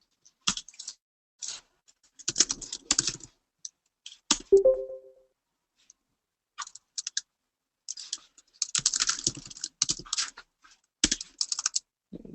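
Typing on a computer keyboard comes in irregular bursts of crisp keystrokes separated by short silences, close and clear, with one brief electronic tone partway through.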